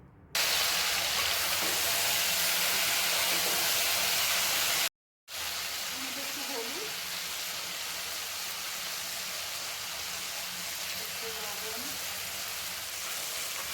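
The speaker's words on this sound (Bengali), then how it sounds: "তেলটা গরম হয়ে গেছে। এবার ফুলগুলোকে দিয়ে দেবো এর মধ্যে।" Ingredients for a jujube (kul) pickle frying in hot oil in a wok: a steady, dense sizzling hiss close by, with one brief cut of silence midway and faint traces of a voice.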